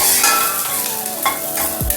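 Mustard-seed tempering for buttermilk kadhi stirred and sautéed in a pan, a steady close sizzle of hot oil with scraping spoon strokes and a brief low thump near the end.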